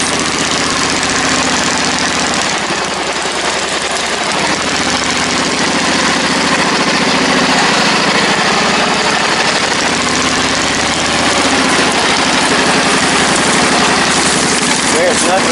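A homemade tractor engine idles steadily and loudly up close, a continuous rumbling drone with vibration running the whole time, no voices over it.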